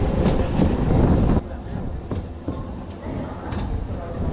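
Narasapur MEMU Express 17269 pulls into Gudivada Junction railway station, a loud rolling rumble that drops to a softer clatter of wheels with scattered clicks and squeals.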